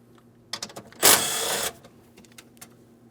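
Tool work on 8mm mounting bolts of a 2015-2025 Ford Transit during battery replacement: a few close, sharp clicks, then a loud half-second mechanical whir, followed by scattered light ticks and taps.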